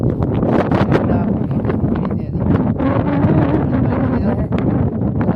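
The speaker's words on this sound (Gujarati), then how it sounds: "પવનનો અવાજ તો તમે થોડોક આવતો હશે" Gusty wind on a farm rumbles against the microphone with bursts of rustling, loud and continuous, with brief louder puffs scattered through.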